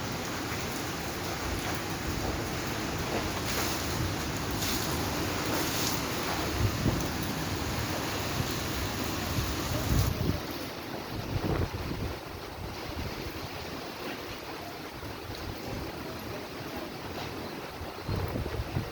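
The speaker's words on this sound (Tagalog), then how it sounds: "Malakas yung ulan pero mahangin, malakas yung hangin." Strong typhoon wind and rain in Ilocos Sur, a constant roaring rush with gusting buffets against the microphone, loud and unbroken throughout.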